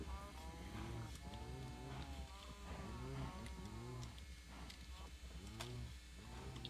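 Cows in the video game Minecraft, kept in a farm pen with wheat growing above them, let out a series of overlapping moos, fairly close and steady, over quiet background noise.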